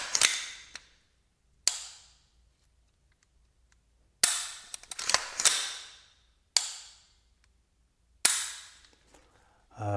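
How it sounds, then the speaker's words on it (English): Dry-fire clicks of a LaRue MBT-2S rifle trigger in a Griffin Mark II ambi lower: six sharp, close, isolated snaps spaced irregularly over about ten seconds, each decaying quickly into silence. "Here we have the LaRue MBT-2S trigger inside the Griffin Mark II ambi lower. It has a nice crisp break,"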